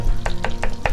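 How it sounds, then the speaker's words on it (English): Green chili and onion frying in a pan, stirred in four evenly spaced scraping bursts over a steady close sizzle. "add your green chili and onion to it and fry it little bit"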